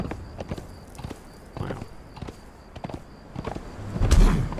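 Horse hooves clip-clopping at a walking pace in the video game Conan Exiles, evenly spaced taps with a brief snort or scuffle near the end, fairly quiet.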